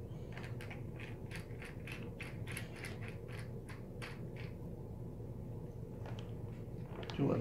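A screwdriver backs screws out of the screen bezel of an Acer Aspire ES 15 laptop, giving close, faint, rapid ratcheting clicks in a steady run that then trails off into quiet.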